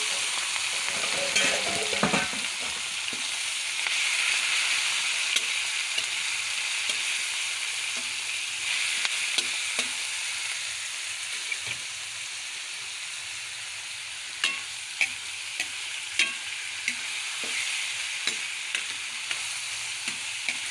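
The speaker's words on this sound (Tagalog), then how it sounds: "Golden brown na ang ating bawang. Ayun na. Ilagay natin ang ating karne." Pork meat added to a pan of golden-brown garlic sizzles steadily and loudly, with occasional stirring scrapes and soft clinks over a continuous hiss of frying oil.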